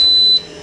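A GreenPan Frost soft serve machine gives a single loud, clear high-pitched electronic beep when ready, lasting about a third of a second, then falls quiet.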